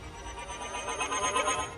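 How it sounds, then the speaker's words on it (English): A low-pitched piano layer processed into a low, warbling, stretched-out synthetic tone with a wavering, oscillating texture that hums steadily for a couple of seconds with no voices. "I also added this low-pitched piano."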